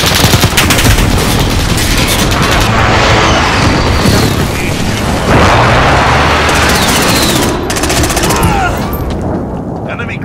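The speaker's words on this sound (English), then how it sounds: "Airstrike inbound." Airstrike explosions and heavy gunfire roar through a Call of Duty: Modern Warfare match on the Rust map, a dense, loud, continuous barrage of booms and rapid shots with a voice faintly present in the mix.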